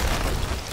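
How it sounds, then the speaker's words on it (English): A ship's cannon booming in the pirate game Sea of Thieves, a deep low rumble filling the short moment with a heavier thump at the end. "Right side cannon."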